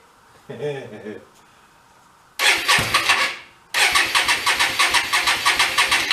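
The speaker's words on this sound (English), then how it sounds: "We'll turn our key on. Shall we?" A Hyosung Aquila motorcycle left unridden for nine years cranks and starts. Someone speaks first, then a loud engine roar surges and drops, and a second start settles into a pulsing, throbbing run up close.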